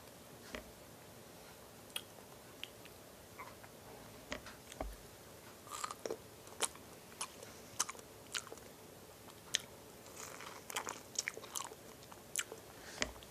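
Fresh strawberries are bitten and chewed close to the microphone, giving a series of soft, crisp, wet crunches and squishes at an irregular rhythm against a quiet background.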